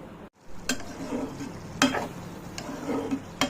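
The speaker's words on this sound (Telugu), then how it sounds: "కూర అయితే ఉడుకుతుందండి" Curry with rock salt and turmeric bubbles softly in a pan, a faint low sizzle broken by a few sharp scraping stirs.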